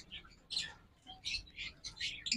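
Green and olive Fischer's lovebirds chirp in quick high squeaky bursts, close but fairly faint, with small rustles between calls.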